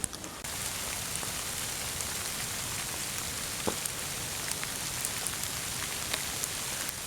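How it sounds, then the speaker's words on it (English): Hail or freezing rain pelting down outdoors on a backcountry trail in Ontario's Frontenac park, a steady dense patter of small ice pellets with scattered sharper ticks of individual hits, continuous and fairly close throughout. "the hail or freezing rain, whatever, stopped"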